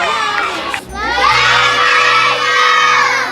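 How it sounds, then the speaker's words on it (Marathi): A large crowd cheers and shouts loudly at a public gathering, with high excited voices swelling after a brief dip and holding strong to the end. "त्यांच्यासाठी जोरदार टाळ्या वाजवा."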